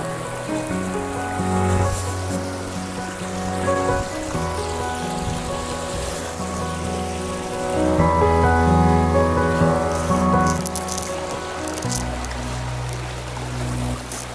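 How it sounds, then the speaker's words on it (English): Water in a creek near the historic Erie Canal flows steadily, a continuous rushing and splashing wash that swells a little in the middle, heard close with no voices over it. "Look at this creek."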